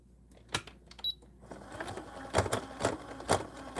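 A sewing machine runs through fabric while making a DIY snowman body, its motor whirring in short bursts with sharp clicking needle strokes that grow busier and louder after a quiet start, with no talking over it.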